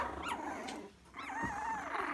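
Cockapoo puppies, 23 days old, play fighting in a litter, giving soft squeaky whimpers and faint little growls at close range, with a brief quiet gap midway.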